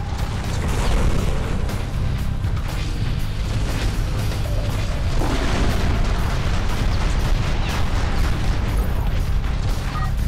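A mech's gun firing in MechAssault 2, a dense, loud barrage of booming blasts and mechanical rumble that runs without a break.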